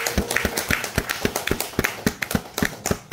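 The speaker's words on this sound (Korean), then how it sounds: "두 분에게 박수 한번 보내주십시오" A group at a small-business news reporters' gathering claps for two people, sharp distinct hand claps landing in a steady, fairly even rhythm, close and clear with no talking over them.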